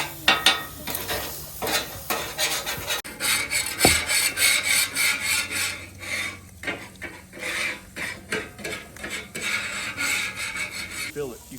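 Italian sausage frying in bacon fat on a flat griddle while a metal spatula repeatedly scrapes, chops and rasps at the meat. The rhythmic, close scraping sits over a fairly loud sizzle.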